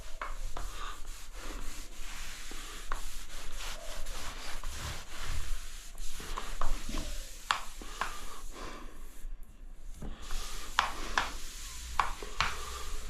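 A sponge or cloth rubs repeatedly over grouted wavy subway tile, making soft, steady scrubbing swishes with scattered sharper squeaks and scrapes, close and moderately quiet, with no talking.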